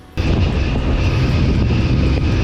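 A Honda Unicorn 160 motorcycle engine kicks in abruptly and holds a steady, powerful roar up close, with no voices.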